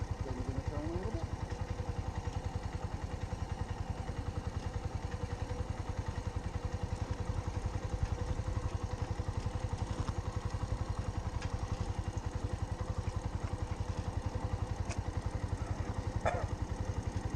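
A motorcycle engine runs steadily throughout a beginner's riding lesson, its low, even drone close and constant, with a faint mechanical clatter and no talking.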